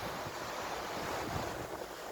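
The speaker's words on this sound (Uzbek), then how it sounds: "Dengiz atrofi." Black Sea waves wash onto the beach at Golden Sands, Bulgaria, in a steady, broad rushing roar, with wind buffeting the microphone.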